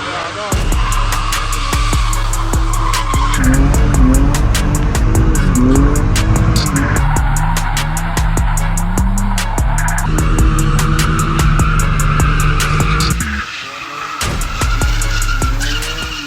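Lexus IS300 with a 2JZ engine drifting, its tires squealing and skidding continuously under a loud revving engine, close and sustained with a brief dip near the end.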